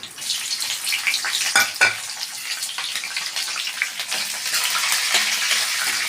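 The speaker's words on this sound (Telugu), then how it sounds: "ఇవన్నీ కొద్దిగా లైట్గా నూనెలో ఫ్రై కాలేదు, పూర్తిగా ఫ్రై కాకూడదు." Dried red chillies and slit green chillies frying lightly in hot oil, a bright continuous sizzle with crackling bursts and occasional stirring scrapes, close and fairly loud with no talking.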